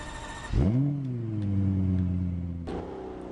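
A Lexus LFA starts up in the Roblox game Wayfort, with a sharp crank and flare of revs that settles into a smooth idle, followed by a brief blip near the end.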